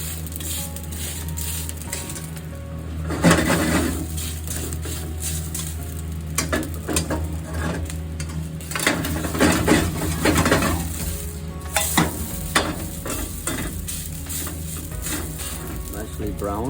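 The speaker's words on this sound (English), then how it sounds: "brown the yakisoba noodles, brown them both sides. Or toasting the noodle." Yakisoba noodles brown on a griddle over low heat with a soft steady sizzle, broken by intermittent scraping and clattering as a utensil stirs and turns them, heard close up.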